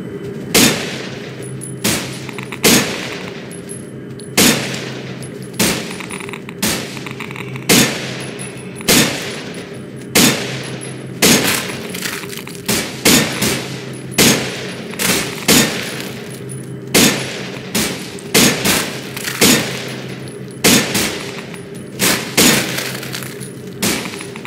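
Gunfire in the zombie survival game No More Room in Hell, single loud shots fired one after another in a steady, evenly spaced rhythm, close and alone without talk.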